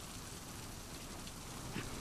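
Heavy pouring rain in The Last of Us Part II, a dense, steady wash of downpour filling the whole scene with no break, with no voices over it.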